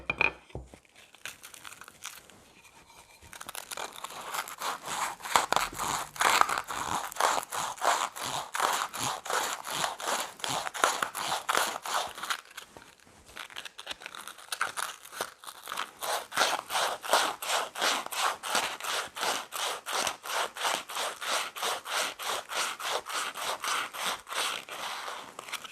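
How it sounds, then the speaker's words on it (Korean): Sandpaper worked around the hole in the back panel of a small wooden speaker, a long run of quick, even, rasping strokes, close and fairly quiet, with no talking. "사포를 작업하실 때 최대한 매끈하게 작업을 해주면"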